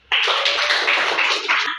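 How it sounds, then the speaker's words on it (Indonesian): A classroom of students claps hands during a lesson, a sudden burst of close, dense clapping that lasts under two seconds and stops abruptly. "Oke, tepuk tangan dulu."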